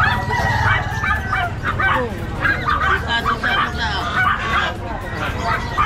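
Puppies in a crowded outdoor pet market in Bocaue keep up a busy chorus of high yips and barks, mixed with poultry-like honks and people talking nearby.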